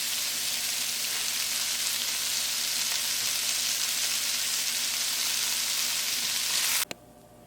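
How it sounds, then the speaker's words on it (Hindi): Mixed vegetables with cabbage sizzle steadily in a pan during a light sauté, with an even hiss that runs without a break and then cuts off abruptly near the end. "हल्का सा इसे सौटे करेंगे, बहुत ज़्यादा सौटे नहीं करेंगे"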